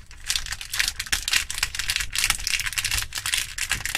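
Crinkly plastic sachet being torn and pulled open by hand, a close, continuous run of rustling and crackling with sharp snaps, no talking.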